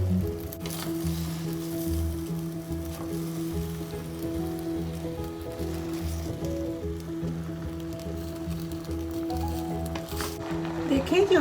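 Chicken is stirred into noodles in a pan for chow mein, giving a continuous soft sizzle with wet squishing as the food is mixed, while someone talks over it throughout.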